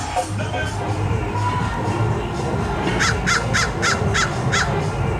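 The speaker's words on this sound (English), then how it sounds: "That's a real crow, not an audio animatronic like Disneyland uses." A real crow caws six times in an evenly spaced run at SeaWorld during a Howl-O-Scream night, clear and fairly close over a dense background of crowd murmur and chatter.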